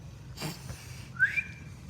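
A faint breathy puff followed by a short, thin whistle that rises and wavers, a weak and unsteady attempt rather than a clear tune.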